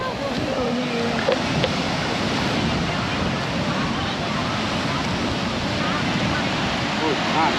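Sea waves wash steadily onto a long Alabama beach near Destin, with constant surf roar and gusting wind noise on the microphone throughout.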